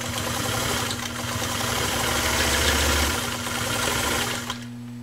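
A Singer Spartan 192K sewing machine drives through six layers of denim with a continuous close motor hum and steady whir that swells and eases slightly as the speed changes, without any talking.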